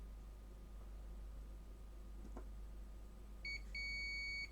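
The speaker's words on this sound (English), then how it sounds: "you will hear the beep" A steady electronic beep from a multimeter in diode mode testing an Acer Nitro 5 laptop board with a short on a main rail, starts near the end, briefly interrupted then continuing, loud and close over a low background hum.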